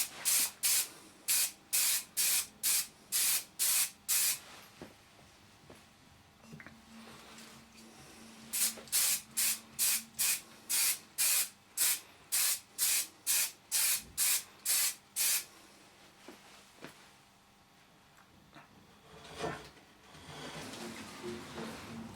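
An aerosol can sprays a light coating onto a brass door finger plate in short, regular hissing bursts, about eighteen in two runs, with quiet gaps between and faint handling noise afterward.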